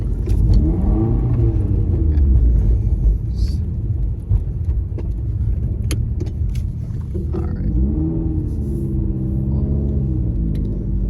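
A manual car accelerating in gear with a steady close engine rumble and drone throughout, the pitch rising and falling with revs and a brief clunk near the middle, with no talk.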